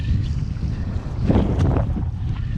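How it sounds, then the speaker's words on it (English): Steady low wind rush buffets the microphone while windfoiling with the board lifted clear of the water, a continuous close roar with a slight swell in the middle and no splashing or voices. "It's nice and quiet, a little bit of wind noise"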